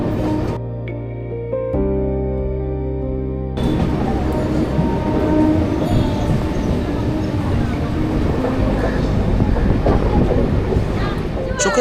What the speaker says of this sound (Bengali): প্রচণ্ড গতিতে ছুটে যায় ট্রেন, হাওয়া ধুলো কাঁপুনি সব একসাথে।